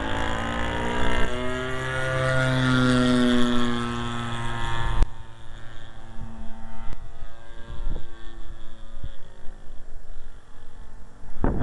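Engine of a large radio-controlled model airplane in flight on a windy day, a buzzing propeller drone loud and close at first, then fainter and fluctuating as the plane moves away, with a few clicks.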